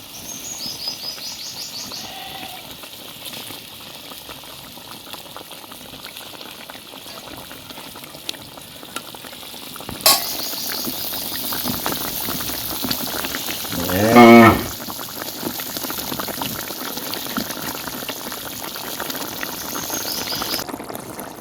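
Koi fish are dropped into hot oil for Bengali tel koi, and a faint kitchen hum gives way to a sudden broad sizzle. A brief louder crackling burst follows before the frying settles into a steady hiss.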